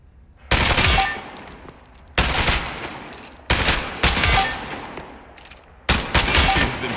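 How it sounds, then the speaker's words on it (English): Gunfire in the Spectre Divide tutorial as the player shoots at revealed enemy targets: four loud bursts of close rapid shooting, each trailing off before the next, with no talking. "Shoot them!"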